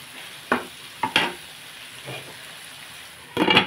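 Potato, beetroot and carrot fry with salt and turmeric stirred in a pan, a few brief scraping and clattering strokes spaced apart over a quiet sizzle, ending in a louder burst of stirring.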